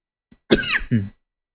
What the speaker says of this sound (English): Where's my mute button so I'm not coughing in your ear?